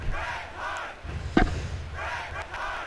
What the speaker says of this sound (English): Stop cheering for him, he sucks!